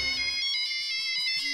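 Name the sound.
phone ringtone, incoming call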